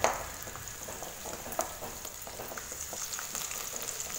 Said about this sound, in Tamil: சின்ன வெங்காயம் நல்லா வதங்கிடுச்சு